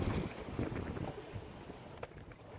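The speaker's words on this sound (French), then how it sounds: "enfin nous avons touché un peu de vent" Steady wind rushing over a sailboat at sea moving at about 3 knots, with gusty buffeting against the microphone and faint water sounds, no voices.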